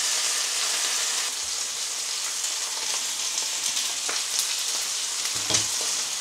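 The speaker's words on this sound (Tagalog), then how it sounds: "So we can now fry our steak." Steak fries in hot oil in a pan with a steady, bright sizzle. Faint clinks and stirring noises come and go, and a soft low knock sounds near the end.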